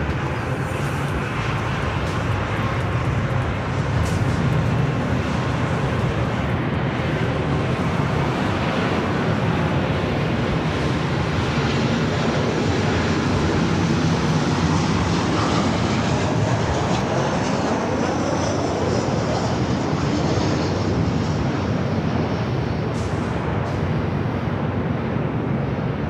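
A Delta airliner on its takeoff run at LAX, a loud, sustained engine roar and rumble that holds strong the whole way through, with no one talking.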